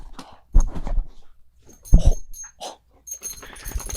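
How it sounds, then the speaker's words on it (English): A pit bull puppy whimpers and yips in short, uneven bursts, close by, with soft snuffling and movement between the cries and no talking. "You are the most energetic puppy we've ever had."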